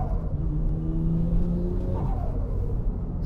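Car engine revving steadily while drifting, with a clutch kick and downshift, the drone rising and falling in pitch; a continuous, moderately loud rumble throughout.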